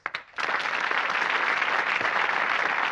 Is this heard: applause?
yes